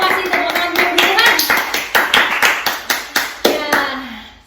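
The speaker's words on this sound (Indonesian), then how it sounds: "Terima kasih tepuk tangan buat Tuhan" A church congregation claps hands together during a worship service, a loud, near, rhythmic run of about a dozen sharp claps with faint voices in the background.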